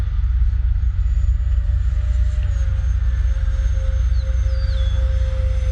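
A large RC Boeing 737 MAX jet model, the Freewing AL37, flying in the air, giving a loud, continuous, steady whine whose pitch shifts slowly as it passes overhead.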